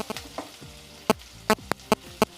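Hot oil crackling and sizzling with sharp pops and spits as spices fry for a tomato kurma, several louder bursts near the end.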